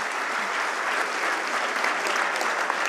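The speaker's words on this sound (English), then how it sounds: "Give him a huge round of applause" Audience at the TiEcon Mumbai 2019 startup conference giving a big round of applause, loud sustained clapping from a large crowd with no talk over it.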